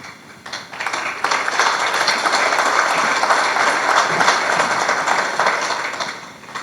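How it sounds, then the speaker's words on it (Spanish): A steady wash of audience applause welcomes Diego Cortés, president of Mexico's construction industry chamber, at an event in Quintana Roo, building quickly and holding at an even, fairly loud level throughout. "Recibamos con un fuerte aplauso a Diego Cortés."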